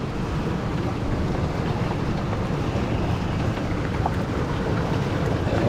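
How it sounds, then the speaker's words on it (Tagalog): Heavy rain pours down outdoors on a fishing boat, a dense, steady roar of broadband noise that holds constant from start to finish with no talk. "Ulan, lakas ng ulan"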